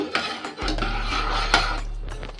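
Custard thickened with cornflour custard powder being stirred by hand in a pan, with a few close spoon knocks and scrapes against the vessel over a low steady hum, no voices.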